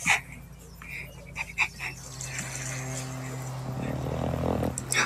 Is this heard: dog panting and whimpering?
yes